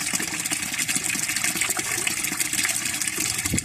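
Automatic washing machine filling its drum with water: a steady, continuous gushing rush of inflow, loud and close, with no voices over it.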